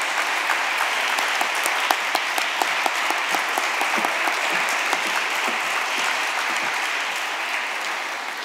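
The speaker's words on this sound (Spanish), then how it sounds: "Un fuerte aplauso." A hall audience at a university's academic-year opening ceremony breaks into sustained, dense applause, many hands clapping steadily for several seconds before starting to fade slightly.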